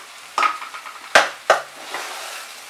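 Spice paste for Bengali pui shak cooked with a fish head fries in a pan, a steady soft sizzle broken by three sharp spatula scrapes and stirs, close by.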